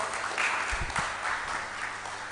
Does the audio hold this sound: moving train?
no